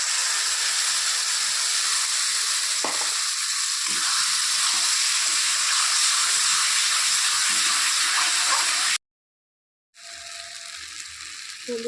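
Ground taro paste hits hot frying oil, which sizzles and hisses loudly and steadily for several seconds, cut by a sudden brief silence, then quieter spitting and sizzling with faint clinks of a spoon.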